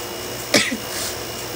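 A single sharp cough bursts out, close and abrupt, followed by a brief softer exhale against steady background hiss.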